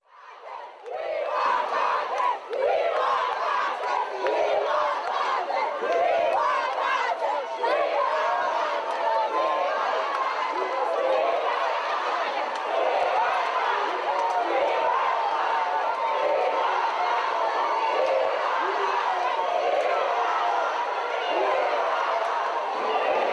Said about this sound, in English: there were sporadic chants among supporters of the entertainer for Vybz Kartel to be